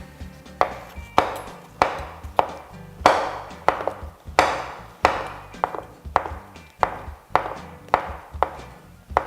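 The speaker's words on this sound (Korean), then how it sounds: "표고버섯 3개를 준비해 주시는데요. 전부 다 작은 사각형으로 썰어 주시면 됩니다." A knife dices shiitake mushrooms into small cubes on a cutting board, giving a steady series of about fourteen crisp, close chops with no talking.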